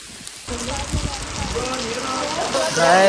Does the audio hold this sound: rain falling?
yes